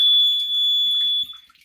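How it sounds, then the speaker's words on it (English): A water leak alarm, a cheap moisture detector used for sump pump failure, sounds a shrill, high-pitched tone loudly and continuously for over a second, then cuts off. "when you put water across those 2 points, it will set the alarm off"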